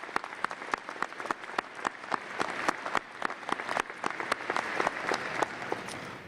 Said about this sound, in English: so let's give all of you a round of applause.